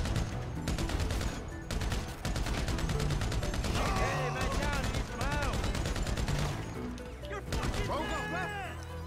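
Gunfire from a weapon in GTA 5 survival mode, repeated shots and bursts blended into a dense, loud game soundtrack with music and effects running throughout the whole stretch.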